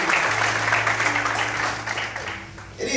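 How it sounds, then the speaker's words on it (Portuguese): A church congregation applauds together in a steady, dense wash of clapping that holds for a few seconds and thins slightly toward the end, with a low hum underneath. "Você pode aplaudir o Senhor nessa noite?"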